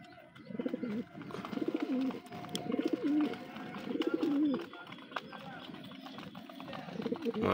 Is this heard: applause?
no